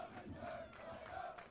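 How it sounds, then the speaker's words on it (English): Spectators at a NJCAA Region 8 women's soccer championship between EFSC and DSC keep up a steady, distant roar of cheering and shouting, swelling in waves across the field. "Crowd over here is cheering."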